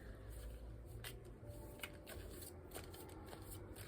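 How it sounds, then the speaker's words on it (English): Soft riffling and shuffling of cards, a steady papery flutter with a few crisp snaps, close by and continuous. "Okay, so let's do the shuffle test."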